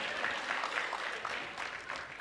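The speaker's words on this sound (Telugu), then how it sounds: "give him a big round of applause" An audience applauds a comedian at a film event, a dense, even wash of clapping heard from a moderate distance for a couple of seconds without pause.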